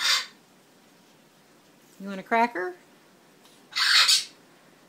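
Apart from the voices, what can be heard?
pet parrot squawking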